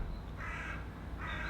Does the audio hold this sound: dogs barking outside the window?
no